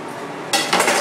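A knife stirs popcorn kernels in a metal pot, giving a steady clinking, scraping rattle up close that grows louder and busier in its second half.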